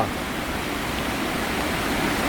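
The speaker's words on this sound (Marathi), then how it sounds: "परत आता पाऊस झाला आणि त्या पावसाची नदी आलेली आहे" Steady, loud rush of the flooded Nar river after rain, a continuous broadband roar with no pauses, close by.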